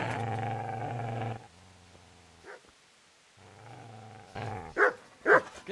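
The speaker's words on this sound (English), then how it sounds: "Get away, you mutt!" A dog in the medieval video game Kingdom Come Deliverance growls in a low, steady rumble, pauses, growls again, then gives a couple of sharp barks, close and clear with no talking.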